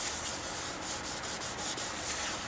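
A bottom coat on sinker cypress being smoothed by hand produces steady, continuous rubbing and sanding friction, an even hiss with no pauses.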